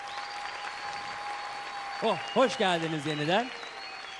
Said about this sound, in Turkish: Şöyle büyük bir alkış bir canlanalım yeniden.